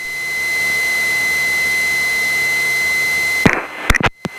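A Cessna Skyhawk light aircraft holds on the runway, its engine giving a loud, steady drone with a high whine that cuts off into brief clicks and silence near the end.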